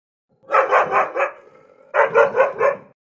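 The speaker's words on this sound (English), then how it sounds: "Dog." A dog barks in two quick bursts of about four sharp barks each, near and clear, separated by a short quiet pause.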